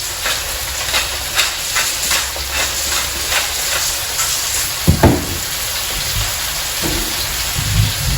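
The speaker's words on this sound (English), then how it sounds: "I like to hear it's very sizzling at the bottom and it's getting a bit more crispy." A one-pan keto meal fries in a pan, giving a constant, close hiss and sizzle that stays steady throughout, with a couple of brief clunks near the middle and no talking.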